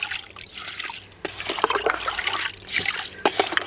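Water is poured from a scoop onto a potted crassula, a close trickling and splashing stream that pauses briefly, then resumes in uneven gushes with soft drips.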